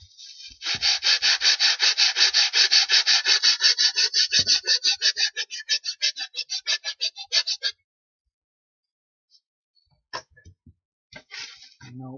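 Sandpaper glued to a wooden block rubs over wood in quick, even back-and-forth strokes, loud and close for about seven seconds, then a few scattered clicks and scrapes.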